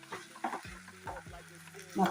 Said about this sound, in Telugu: వీటిని అంతటిని ఒకసారి మిక్స్ చేసేసుకోవాలి